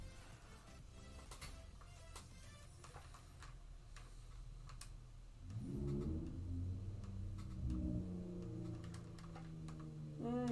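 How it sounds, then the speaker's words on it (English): A neighbor's loud car drives past outside, its low engine rumble swelling from about halfway through and holding fairly steady to the end, over faint ticking and tapping sounds close by. "One of my neighbors has a pretty loud car."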